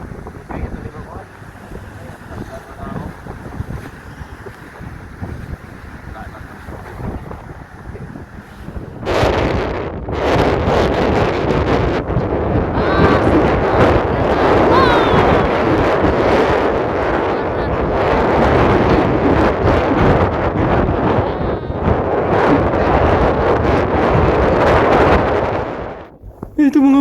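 Strong coastal wind buffets the microphone in a steady roar, building sharply about a third of the way in and staying loud and continuous until a brief drop near the end.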